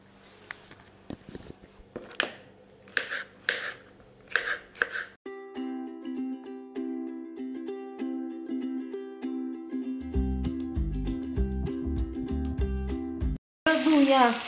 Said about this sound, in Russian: Я налила 2 ложки оливкового масла и обжариваю лучок.